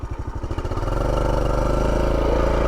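A 1984 Honda Trail 110 motorcycle revs in low range second gear: rapid chugging pulses swell into a loud, steady, buzzing engine drone, close and alone.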